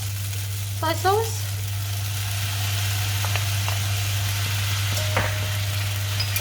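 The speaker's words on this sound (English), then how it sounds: "Then I add the soy sauce" Soy sauce goes into a sizzling Thai flat noodle stir-fry, giving a steady frying hiss over a constant low hum, with a few brief scraping and clinking touches.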